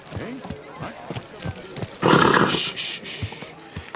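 Horse in the medieval game Kingdom Come Deliverance 2 snorting and shifting its hooves with a few scattered clops, followed by one louder breathy blow, under and between spoken dialogue.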